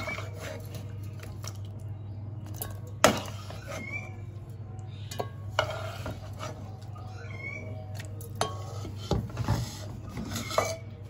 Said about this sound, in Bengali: এইবারে আমি এগুলো পেস্ট করার জন্য মিক্সিং জারে দিয়ে দিচ্ছি।